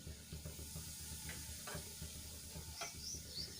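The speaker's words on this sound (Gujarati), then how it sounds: "હવે જીરું સંતળાઈ જાય એટલે એમાં આપણે ચપટી હિંગ એડ કરીશું" Cumin seeds and a pinch of asafoetida crackle in hot oil in a pan, a soft close sizzle with light stirring scrapes and a few brief pops, no one talking.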